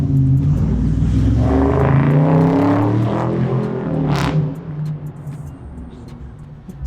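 Onboard a Ferrari F8 on the road, the engine and exhaust rev up in a loud, rising roar, then ease off into a lower rumble as the car cruises.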